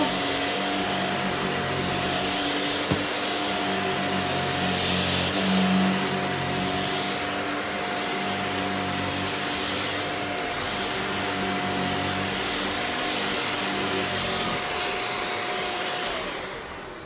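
A Shark Powered Lift-Away cordless vacuum cleaner cleaning a floor runs steadily at close range with a constant whirring drone and a thin high whine, fading slightly at the end. No talking.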